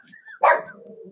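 A dog gives a single sharp bark indoors, close and loud, followed by a trailing whine, with faint background voices.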